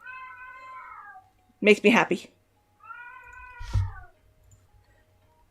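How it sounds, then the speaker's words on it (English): A house cat meows loudly and drawn out, wails once more a couple of seconds later, with a person talking briefly between the cries. "My cat is like screaming bloody murder."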